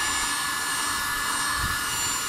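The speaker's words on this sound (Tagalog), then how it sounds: "hanginan natin gamit ang blower. Hanggang sa matuyo." A blower dries a repaired plastic car bumper after its defects have been filled, giving a loud, steady, broadband rushing of air that continues unbroken throughout.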